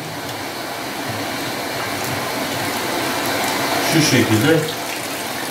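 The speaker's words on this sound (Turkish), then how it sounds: "Evet, şu anda makine su alıyor." A washing machine takes in water on its rinse cycle, a steady rushing hiss filling the space, with a brief short remark spoken over it near the end.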